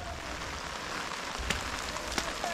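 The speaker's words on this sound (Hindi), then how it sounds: "इतने बारिश तेज़ हो रहा है" Heavy rain pours at the Vishwa Shanti Stupa in the Ratnagiri hills: a steady, dense hiss with a few sharper drop impacts standing out, no voices.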